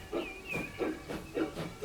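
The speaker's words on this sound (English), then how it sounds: "And the first steam train arrives." Steam train pulling into a station in the Transport Fever 2 railway game, with repeated bursts of hissing steam in a steady rhythm and a thin whistle-like tone, fairly close and clear with no talk.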